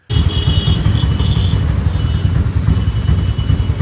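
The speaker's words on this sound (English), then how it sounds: "Tuk-tuk race." Tuk-tuks race along a road in Kerala, their small engines buzzing loudly and continuously up close with a rough, throbbing low-end drone.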